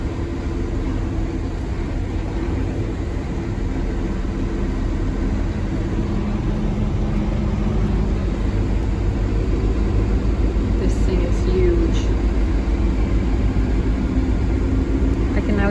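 A dumper truck's diesel engine drones steadily and loudly as it drives on a farm, a constant low rumble with wind noise and a voice talking over it.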